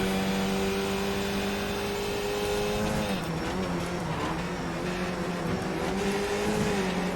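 Racing cars in a sim racing video game: engine tones hold steadily loud throughout, with a pitch drop near the midpoint like a gear change, then build again as the cars keep running.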